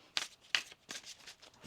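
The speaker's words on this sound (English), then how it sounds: "For Leo, one more shuffle." Tarot cards riffled and shuffled in several quick, crisp bursts of papery flicking, close and fairly quiet, with no talking.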